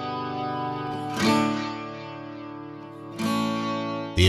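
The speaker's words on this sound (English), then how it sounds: "The input can be overdriven for a touch of analog distortion" Colour Copy plugin analog distortion from an overdriven input colours a sustained, harmonically rich synth-like tone whose new notes enter with gritty, bright attacks, then hold as dense, buzzy chords.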